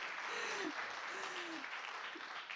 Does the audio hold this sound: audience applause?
yes